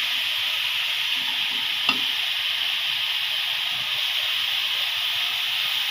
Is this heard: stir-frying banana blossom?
yes